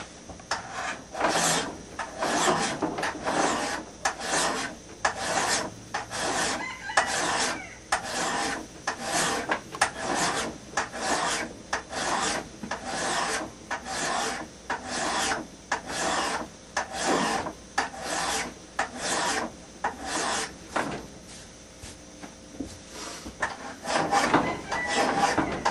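Steady back-and-forth rasping of a file along a handaxe head's bevel, dozens of regular strokes close up, loud and continuous without talk.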